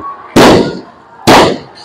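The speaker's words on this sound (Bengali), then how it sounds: "সরাসরি সরাসরি গুলি করা হচ্ছে" Two sharp, loud bangs of police gunfire about a second apart, each cracking out and then decaying, with a quiet gap between them, during clashes with students near Khulna University.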